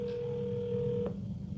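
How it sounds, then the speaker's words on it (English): A telephone on an outgoing sales prospecting call gives a steady dial or ringback tone that stops abruptly, followed by a faint click, heard alone and moderately quiet. "Maybe we get someone to pick up the phone."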